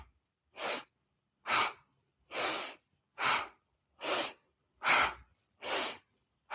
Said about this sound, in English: So we're going to take a deep breath here. Let it out